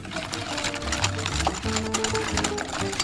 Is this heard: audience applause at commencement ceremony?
no